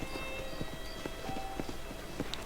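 Horse hooves clip-clopping at a walking pace in the video game Red Dead Redemption, evenly spaced soft strikes over quiet ambient sound with steady tones.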